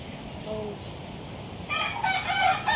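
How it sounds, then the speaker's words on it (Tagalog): A rooster crows at moderate distance over steady outdoor background noise, the call rising late in the clip. "May manok."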